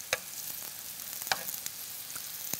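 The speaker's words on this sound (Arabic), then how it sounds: "يعني الحين راح نقلب حبات الخرشوف" Artichoke pieces sizzle softly in a pan, a low steady hiss punctuated by a few quick clicks of stirring, close but quiet.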